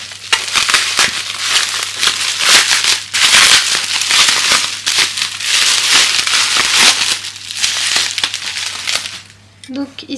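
A PJ Cutter blade slices through plastic packaging close up, making continuous crinkling, crackling and tearing in uneven bursts for several seconds before it trails off.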